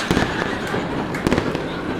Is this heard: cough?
no